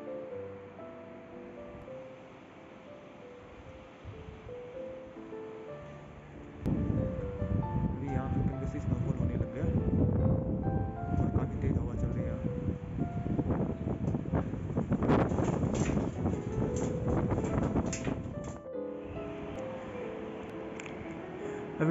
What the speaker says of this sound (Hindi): और बाहर तो काफ़ी तेज़ हवा चल रहा है